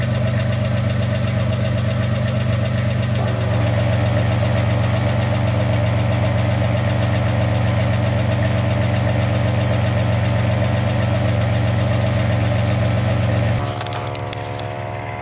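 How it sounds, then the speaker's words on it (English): A portable air compressor runs steadily to inflate a flat tire on a 1988 Toyota pickup, a loud, close, droning motor hum with a rhythmic knocking pulse that shifts pitch briefly near the end. "I'm going to fill up the tire with my air compressor."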